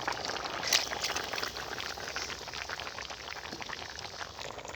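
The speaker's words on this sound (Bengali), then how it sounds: "তরকারি বলক উঠে আসছে" Vegetable curry with glassy fish comes to a boil in a pot, giving a soft, continuous bubbling and simmering hiss with faint pops, fairly quiet and steady throughout.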